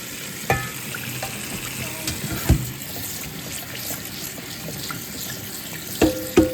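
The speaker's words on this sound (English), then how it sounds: "Rinse off some of the starch." Tap water running into a sink over cooked spaghetti, a steady hiss with a few clanks and thumps of the pot, close and moderately loud.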